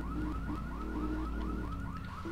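A car alarm blares in the video game GTA III, a steady repeating electronic whoop cycling about twice a second, loud and close with a low engine hum beneath.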